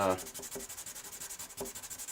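Fine 1000-grit sandpaper rubs back and forth over the finish of a Gibson J40 acoustic guitar, a steady rhythmic scratching of quick, even strokes, close and fairly quiet.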